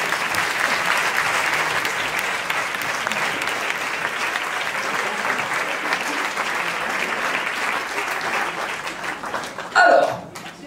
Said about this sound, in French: Tous les hommes, on va les applaudir!